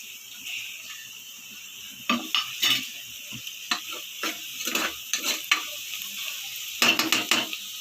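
Green chillies and browning onions frying in a pan, with a steady close sizzle and repeated scraping stirs of a utensil against the pan in short irregular bursts.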